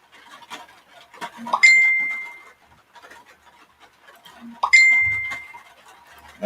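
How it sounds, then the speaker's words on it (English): Live stream notification alerts pop up twice, each a bright sustained electronic ding that rings out and fades over about a second, with faint shuffling and background noise between them. "You're probably hearing the notifications just popping up."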